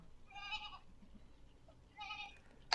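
Goats bleating in two separate bursts from a large herd of about a thousand animals, moderately close, with a quiet gap between the calls and no talking.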